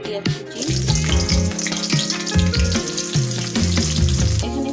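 Bay leaves and whole garam masala sizzle in hot white oil in a heated kadai, a continuous frying hiss running under loud, prominent background music.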